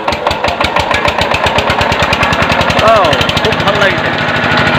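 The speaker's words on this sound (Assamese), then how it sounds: "মেচিন চলিবলৈ আৰম্ভ কৰিছে।" Engine-driven sugarcane crushing machine running steadily with a rapid, regular knocking chug, loud and close, while people talk over it.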